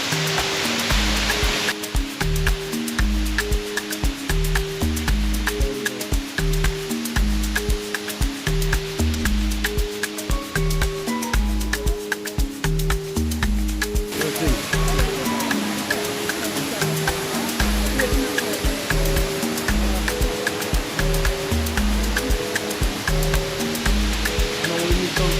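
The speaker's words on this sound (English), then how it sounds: "Made it to the waterfall." Water pours steadily from a waterfall inside a vast indoor rainforest greenhouse, a continuous loud rushing wash heard up close with no voices.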